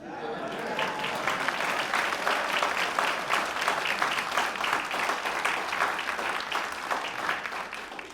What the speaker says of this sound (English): I just want to give an acknowledgement and just a rousing applause to Easton.